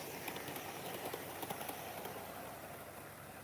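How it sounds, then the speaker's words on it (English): A small Hornby model railway train rumbles steadily along its track with a constant whirring hiss and faint rhythmic clicks of wheels over rail joints. "I'll give this train a few more laps, and then we'll switch engines again."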